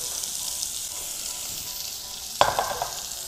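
Onion dropped into a hot pan with browned bits for a creamy soup, a constant low sizzle that flares suddenly into a louder crackle as the onion hits the fat, close by.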